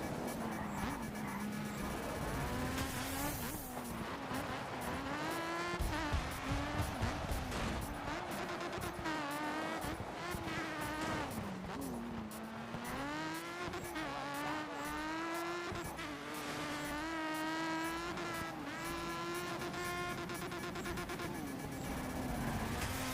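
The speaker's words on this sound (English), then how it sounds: "I'm just going to keep hitting the rev limiter, not because it's any faster, but because it makes a cool noise" A rally car engine in the game DiRT 2 bounces repeatedly off the rev limiter, its loud buzzing tone stuttering and wavering in rapid pulses for a long stretch, with occasional skid noise.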